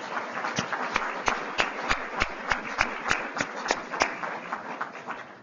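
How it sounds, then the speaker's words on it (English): An audience of HHS employees claps in a hall, a steady run of sharp, evenly spaced handclaps over a crowd murmur, moderately loud and fairly close. "Would you just give yourselves a round of applause, because you deserve it"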